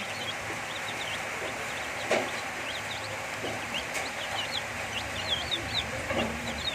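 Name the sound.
chicks clucking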